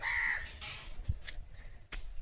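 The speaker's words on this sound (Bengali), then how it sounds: "কাক ডাকছে" Crows caw a few times in a village garden on a breezy day, short harsh calls with a gentle wind rush behind them.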